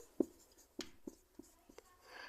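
Math equations being written by hand, heard as a series of short, close scratches and taps of pen on paper at irregular intervals in a quiet room.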